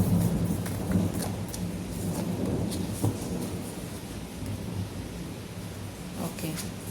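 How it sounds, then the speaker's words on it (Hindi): Heavy rain pours down steadily, with rolling thunder rumbling low underneath throughout and faint background voices. "इतनी तेज़ बारिश हो रही है।"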